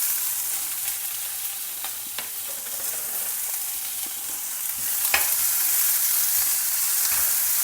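Green chillies and chopped onions frying in a pan, with a continuous close sizzle and crackle and occasional sharp scrapes of stirring, without any voice.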